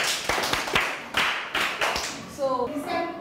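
A quick burst of several sharp hand claps from a small group of children in a school classroom, with a brief childish voice chiming in near the end.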